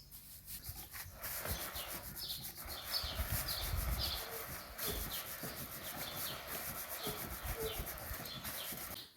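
Hands rubbing wet wool fleece during rug felting, giving a close, continuous rhythmic rubbing and swishing with steady back-and-forth strokes and no talk.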